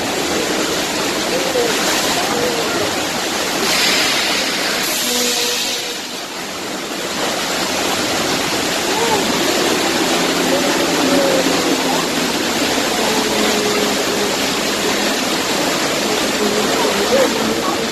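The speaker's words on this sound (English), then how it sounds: "The water main just broke." Heavy rushing and splashing water from a staged broken water main on a Universal Studios tour, a loud continuous torrent throughout with brief tonal sounds partway through and a short dip in the middle.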